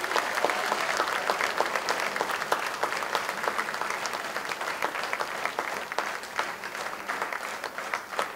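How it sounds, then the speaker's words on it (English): A concert audience at a county band performance gives steady, sustained applause, many hands clapping evenly throughout without pause. "So give him a round of applause for Dr."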